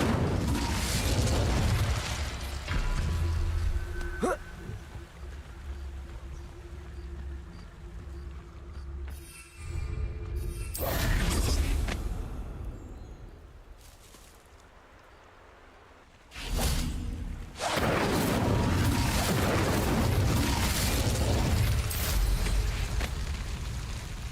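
Incendio fire spell cast in Hogwarts Legacy, a loud roaring burst of flame with whooshing and rumbling blasts, cutting out briefly and then swelling back, with no talk over it.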